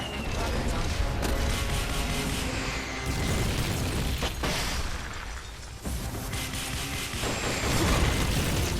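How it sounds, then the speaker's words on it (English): Rocket launcher fire in the Metal Gear Solid Peace Walker video game: loud, continuous booming blasts and rumbling explosions fill the scene, with brief dips between volleys. "Firing rocket launcher."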